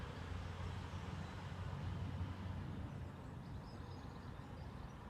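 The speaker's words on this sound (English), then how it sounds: "Shame there's still a bit of traffic about." Steady road traffic rumbling past at a distance, a continuous low drone of passing vehicles that swells slightly and then holds, with no voices present.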